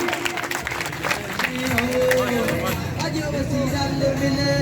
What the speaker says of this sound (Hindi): उनके लिए भरपूर तालियां।